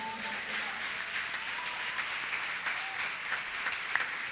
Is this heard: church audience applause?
yes